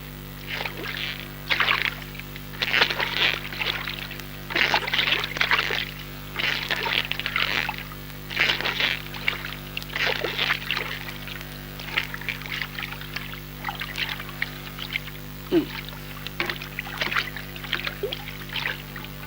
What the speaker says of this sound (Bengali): মাঝি, নৌকা ভেড়াও